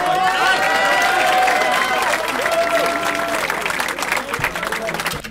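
A rap battle audience applauds and cheers in a steady, dense wash of clapping that fades slightly toward the end, with a voice and tonal sounds running over the crowd.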